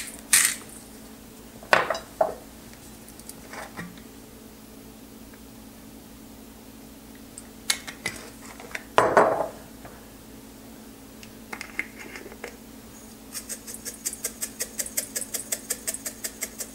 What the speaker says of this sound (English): So now we're ready to put these in with all the spices and get ready for cooking.